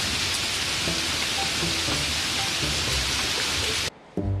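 Heavy rain pours in a steady, dense hiss with scattered drops, loud and close, then cuts off abruptly near the end.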